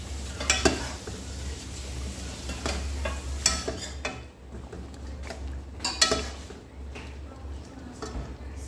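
Eggplant frying in a pan while being stirred for biryani, with sizzling and clattering stir strokes against the pan over a steady low hum, and a few louder scrapes throughout.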